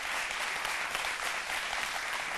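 Studio applause on a midday television program in Côte d'Ivoire, greeting news of an African film that won a César award; brief, steady, bright clapping with no speech.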